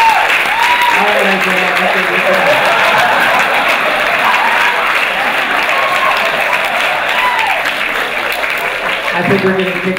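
A large convention panel audience claps steadily and loudly throughout, dense applause with voices talking and calling out over it.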